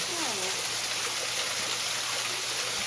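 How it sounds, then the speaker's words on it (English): Constant roaring rush of a waterfall in Japan fills everything, steady and enveloping, with a faint voice briefly audible near the start. "I think this must be a waterfall"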